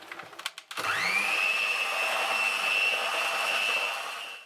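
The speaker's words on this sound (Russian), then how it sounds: "Когда миксером становится тяжело вымешивать глазурь, останавливаемся, и она уже готова." An electric hand mixer whips lemon-juice icing for a carrot Easter cake, starting after a few clicks and then running as a steady, loud, continuous whirr that slightly drops in pitch and fades at the end.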